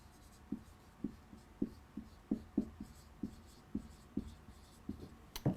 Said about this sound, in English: let me write this down